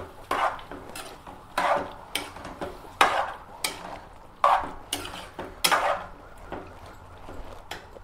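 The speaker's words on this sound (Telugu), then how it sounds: "ఫస్ట్ ఒకసారి కలుపుదాం" Mutton liver with onions being stirred in a pan, a series of about a dozen scraping, clattering strokes of a spoon against metal in an uneven rhythm, close and fairly loud over a faint sizzle, no speech.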